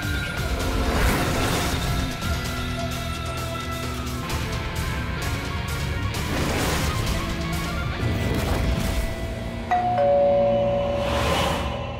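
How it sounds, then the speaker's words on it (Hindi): A doorbell rings over and over in a home, repeated chime tones sounding among bangs and knocks, with a clear two-tone ding near the end. "काहे बार बार घंटी बजा रहे हैं?"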